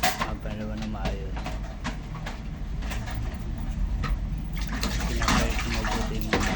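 Running water splashes steadily while plates and small dishes are soaped and rinsed, with occasional clinks, continuous throughout under a talking voice.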